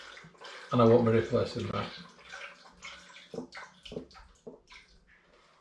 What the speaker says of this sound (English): I've got to pour some out to take the gravity.